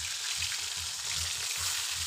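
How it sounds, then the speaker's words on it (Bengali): Salted, turmeric-rubbed fish fries in hot oil in a wok, a soft, steady sizzle with a faint low rumble beneath, brief and alone. "মাছটা আগে ভেজে নিচ্ছি।"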